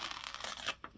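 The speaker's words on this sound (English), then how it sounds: "I'm just going to tear out for now until I see if I need to use some sort of a blade" Pages being torn out of an old book for an altered junk journal, a short close papery rip lasting under a second, followed by a brief softer tug.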